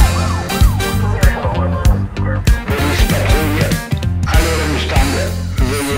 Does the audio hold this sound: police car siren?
yes